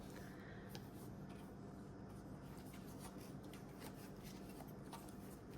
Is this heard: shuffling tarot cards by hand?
yes